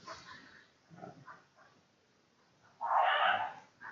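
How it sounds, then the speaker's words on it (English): Neighbor dogs bark outside: faint scattered yelps early on, then one loud, close, harsh burst of barking near the end, with no talking. "Some neighbor dogs barking outside."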